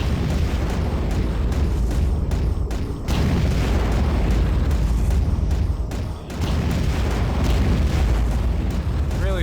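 A steady, heavy rumble of explosions in the underwater combat game Aquanox, with booming bursts packed close together and briefly dipping once near the end.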